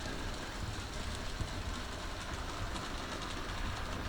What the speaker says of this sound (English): You can see a local train heading on the down line.